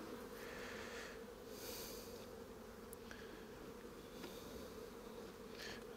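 Honeybees buzz steadily around a hive's landing board, a dense, continuous droning hum from many insects close by with no talking.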